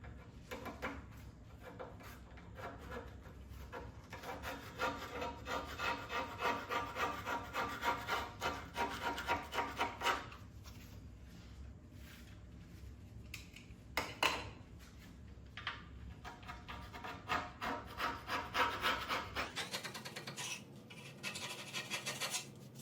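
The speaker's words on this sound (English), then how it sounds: "Scraping off some creosote too." Steady rubbing and scraping of a screwdriver against the cast griddle of a Vermont Castings wood stove, working creosote off it in continuous close strokes with a few sharper scrapes.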